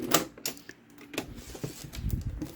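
A sewing machine running its thread cut function while making a double-sided zippered bag, a run of quick mechanical clicks and clacks with an uneven rhythm, close and fairly loud.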